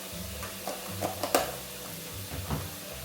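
Noodles being stirred in a pot for spicy crab and shrimp pasta, with a few soft knocks and scrapes of a utensil over a low, simmering background, without talk.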